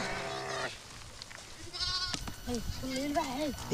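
Sheep bleating while held for a government HS injection, a couple of short nasal bleats close by, with people talking around it.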